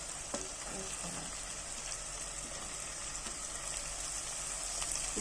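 Ivy gourd pieces fry in a pan after ginger-garlic paste, producing a steady close sizzle with faint crackles and occasional light stirring taps throughout, and no talk.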